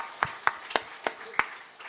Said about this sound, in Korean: 우리 환영의 박수 한번 쳐드리겠습니다